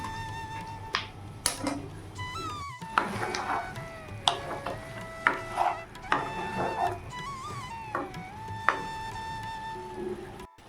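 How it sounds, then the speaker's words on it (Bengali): A knife chops small tomatoes and green chilies on a board in a home kitchen, giving irregular, fairly faint sharp taps and clicks spaced about every half second to second, with a faint background hum. "এখানে ছোটো সাইজের দুটো টমেটোকে আমি কেটে নিচ্ছি"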